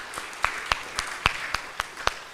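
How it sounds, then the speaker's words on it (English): Congregation doing a church clap, a steady, moderately paced rhythm of distinct group claps, roughly three per second. The claps are fairly close and clear over a light background murmur. "Let's church clap together."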